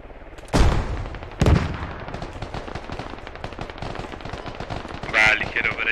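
Gunfire in the video game Squad: two heavy, loud shots about a second apart, then a long stretch of rapid, rattling automatic fire with a burst near the end, under someone speaking Spanish.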